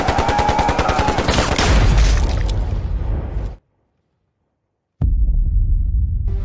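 Sniper and automatic gunfire from a Chinese action film crackles in a loud, dense burst for several seconds, cuts to silence, then resumes abruptly with heavy low rumble.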